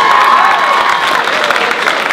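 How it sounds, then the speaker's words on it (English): A loud, dense burst of applause and some cheering from a large youth audience at a Young Social Innovators event, filling the space evenly throughout with faint voices mixed in. "Can I give my gorgeous girls a round of applause"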